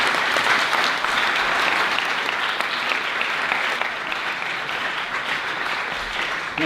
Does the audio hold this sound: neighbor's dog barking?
no